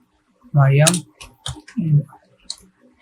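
Keys clatter on a computer keyboard in short, irregular bursts of clicks at close range, with brief voiced murmurs mixed in between the keystrokes.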